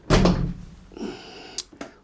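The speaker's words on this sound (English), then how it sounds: "Let's close the back door a minute." The back door of a Land Rover Defender 90 TD5 is pushed shut with a solid thud, followed by some rattling and two short sharp knocks as it settles, with no one talking.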